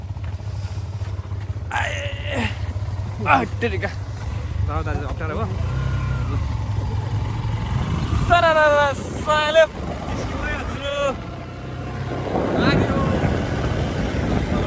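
A Hero motorcycle rides along a trek route in Taplejung, Nepal, its steady engine drone low and continuous beneath wind noise, while people talk over it throughout.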